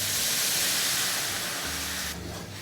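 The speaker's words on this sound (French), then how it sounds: "on va déglacer la poêle avec du madère" Madeira wine poured into a hot frying pan, bursting into a loud, steady steam hiss that fills the pan and eases slightly toward the end.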